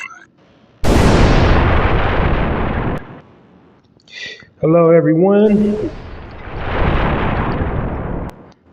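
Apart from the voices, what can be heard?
explosion sound effect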